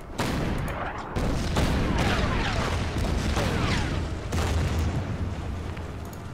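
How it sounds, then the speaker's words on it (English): Bombing run in the wargame Order of Battle, with explosions and crackling blasts rolling one after another in a loud, dense barrage, a brief lull near the start, then sustained rumbling impacts throughout. "Let's bomb them."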